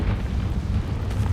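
A Confringo fire spell in Hogwarts Legacy bursts into a short, deep explosive boom with a rumbling low body that carries through the brief moment, no speech.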